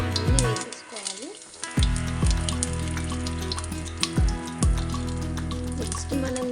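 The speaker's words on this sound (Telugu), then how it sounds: "దీంట్లో ఇప్పుడు మనం కొంచెం జీలకర్ర, ఏంటి అంటే హోల్ గరం మసాలా దినుసులు అన్నీ వేసేసుకోవాలి" Cumin seeds and whole garam masala spices sizzle in hot oil for a mutton curry, a steady close crackle and fizz with a few sharp pops and clinks of a spoon.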